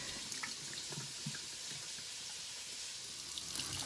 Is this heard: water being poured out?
yes